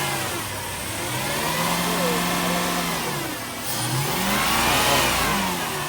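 A Toyota car engine revs up and eases down in long swelling waves. The loud, steady mechanical roar climbs in pitch, dips briefly, then rises again to its loudest near the end.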